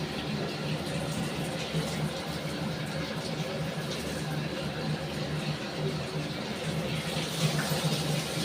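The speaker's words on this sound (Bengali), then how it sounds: "এবার আমি জল দেব।" Water poured into a cooking pan of potato and pea curry, a steady rushing splash that runs on fairly quietly for several seconds.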